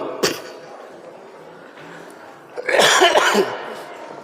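A male preacher coughing at a sermon: one sharp cough, then a harsher burst of several rapid coughs a few seconds later, close and fairly loud with no talk.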